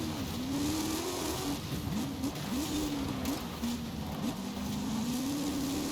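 A drag car in the racing game Forza Horizon 5 accelerating hard, its engine holding a loud sustained drone with wavering pitch shifts through gear changes, continuous and close, no voices.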